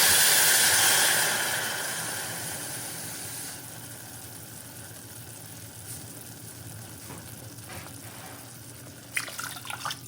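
Cold water poured into a hot pot of rice gives a loud, broad hiss and sizzle that fades over the first few seconds into a steady low simmering rush, with a brief rattling burst near the end.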